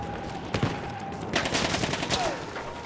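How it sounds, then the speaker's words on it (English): Gunfire in Battlefield 1, a few sharp cracks and bursts over a steady din of battle, fairly close and loud, with no clear talking over it. "There's some dude shooting at me."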